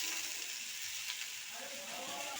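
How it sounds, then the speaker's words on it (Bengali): Potato, onion and boiled khesari lentils fry in a pan and get stirred, giving a steady, close sizzle with soft scraping and no speech. "খেসারি কলাইটা দিয়ে ভালো করে নাড়িয়ে নেব"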